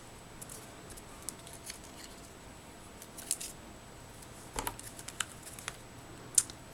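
Scissors cutting out small paper pieces for a butterfly frame craft, faint scattered snips and crisp clicks at irregular intervals over a quiet background.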